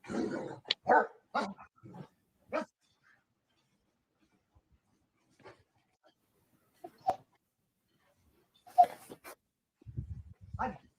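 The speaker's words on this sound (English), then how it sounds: "Big dog." A big dog barks in a quick burst of several deep woofs, then goes quiet, followed by a few scattered fainter barks and a low growl near the end, with some talking in the background.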